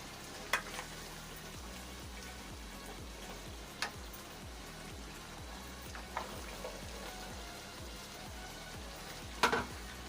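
Soft, steady sizzle of half-cooked potatoes and cauliflower frying in a pan for aloo gobi, with a faint low rhythmic hum and a few scattered clicks and taps, no talking.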